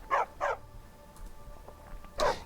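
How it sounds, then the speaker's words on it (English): A dog fighting a wolf in a fantasy video game gives two quick sharp barks, then a quieter stretch with faint snarls, followed by another loud bark burst at the end. "Oh, a wolf's fighting a dog."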